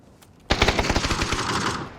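An automatic rifle in the battle royale game PUBG, on the Vikendi map, fires a rapid burst of about a dozen close, loud shots in a steady rattle after a brief quiet moment.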